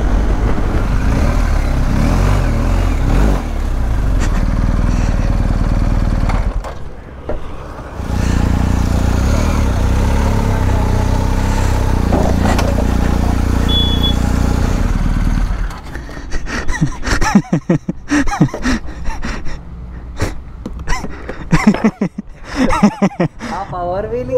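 A motorcycle rumbles steadily with road and wind noise for a long stretch, then the sound breaks into choppy bursts near the end.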